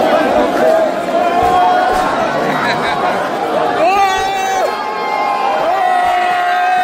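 A tense crowd mills around a looted store after a PSG victory, with loud overlapping chatter, scattered shouts and whoops, and several drawn-out yells rising above the steady babble of voices.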